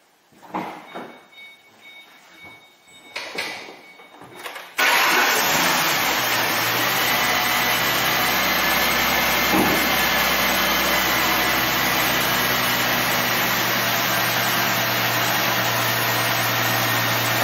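A car engine is started during a camshaft-versus-crankshaft correlation test. A few handling clicks come first, then the engine catches abruptly and settles into a loud, steady, close idle.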